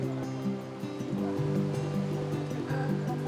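Indian Ocean surf at Malindi, Kenya, a steady wash of waves heard nearby with continuous rumbling water and no talk.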